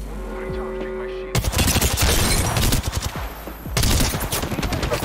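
A video game firefight with loud, dense automatic gunfire. Rapid bursts erupt after a quieter opening, pause briefly, then resume just as heavily.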